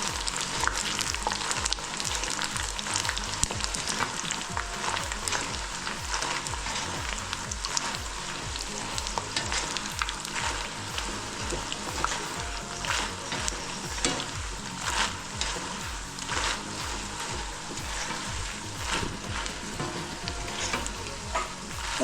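Cheeselings deep-fry in plenty of very hot oil over a gas flame, a dense, loud, continuous sizzle and bubbling with occasional stirring clatter, close and without speech.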